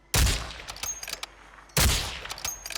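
Gunfire from the video game Warzone: two loud, sudden bursts of shots, each followed by a short trail of scattered rapid reports and echoing crackle, with a brief lull between them.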